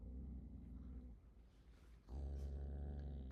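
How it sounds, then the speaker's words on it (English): A small puppy named Maisie growls in a low, rumbling way, close and fairly loud, swelling in intensity partway through; no barking is clearly distinct. "Oh, you don't like it when the dog's outside bark, do you?"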